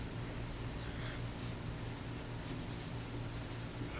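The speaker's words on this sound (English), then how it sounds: "it's a comic book Judge Dredd sketch" A pencil sketches a comic book drawing of Judge Dredd on paper, a steady, close scratching and shading texture that runs continuously with faint, brief strokes standing out.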